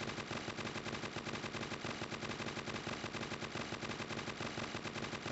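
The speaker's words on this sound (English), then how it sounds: "Gatling gun is inaccurate, or I would have had it." A Gatling gun in the Crossfire: Legends zombie wave mode fires without pause, a loud, dense rattle of rapid shots held at steady intensity for the whole stretch.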